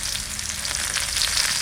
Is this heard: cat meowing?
no